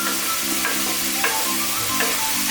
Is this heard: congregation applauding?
no